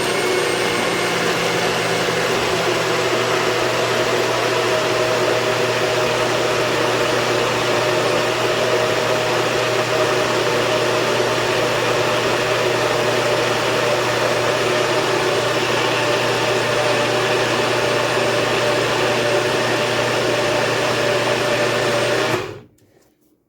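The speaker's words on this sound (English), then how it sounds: "I combined the two batches together and in the blender, and I'm just gonna give it a last blend" An electric blender runs continuously, blending a full cup of sea moss gel with a steady, loud motor whine and churn for over twenty seconds before cutting off abruptly.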